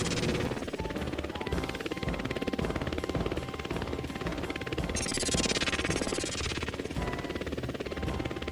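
A red drone flies with a continuous buzzing hum of whirring rotors, and a higher whine swells briefly partway through, with no voices.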